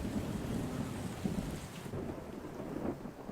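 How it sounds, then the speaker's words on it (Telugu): Heavy rain pours steadily while low thunder rumbles close by, a dense continuous wash of storm noise with no voices. "తుఫాన్ అంట బావా పెరుగుతుందంట వర్షం"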